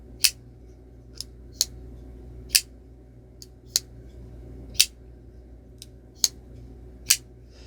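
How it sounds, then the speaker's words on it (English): Hinderer XM18 non-flipper knife, 3-inch, snapping open repeatedly so the blade's steel stop pins strike the titanium frame: eight sharp, clean clacks at irregular intervals over faint background hum, no talk. "very satisfying clack with that, you know, the steel stop pins hitting that titanium there"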